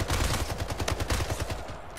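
Rapid gunfire in the Splitgate video game: a fast, loud burst of repeated shots in an even rhythm that fills the whole moment, with no talking over it.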